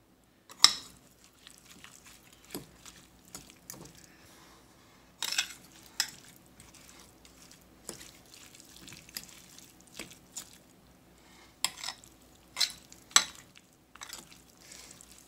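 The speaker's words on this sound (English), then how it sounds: "I'm going to go ahead and add those pecans. Mix those in there." Pecans being stirred into a dandelion and purple deadnettle pesto, sparse wet squelches and scraping clicks of a utensil in a thick mixture, close and quiet with pauses between strokes.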